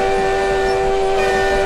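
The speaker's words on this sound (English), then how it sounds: "Did I hear a train sound?" A loud, sustained train horn blares from a passing train with a rumbling rail roar beneath it, close and continuous throughout.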